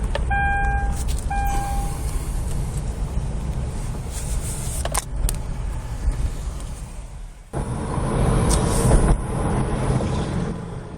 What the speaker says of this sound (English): we're going to get in the car